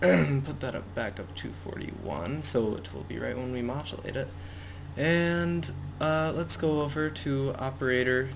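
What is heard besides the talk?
No distinct noise like a dog, phone or traffic.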